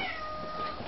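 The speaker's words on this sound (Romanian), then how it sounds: "Meow." A cat meows during a reunion with its owners after a long time apart: one short, close, tonal call lasting about a second, heard alone.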